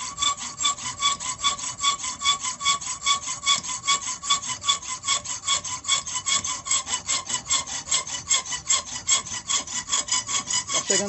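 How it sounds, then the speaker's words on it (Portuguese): A multifunction hacksaw cuts through a thick nail with fast, even back-and-forth rasping strokes, loud and close, repeating steadily without pause and with no voices. "Vamos ver se a serra não vai se estragar com esse prego que é mais grosso."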